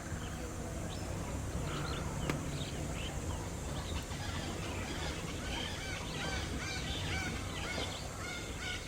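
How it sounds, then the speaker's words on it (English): Crows call near a dead buffalo where vultures are scavenging in Kaziranga National Park. Faint, scattered caws sound over a steady outdoor background hiss. "Vultures and crows were scavenging on the remains of that dead buffalo."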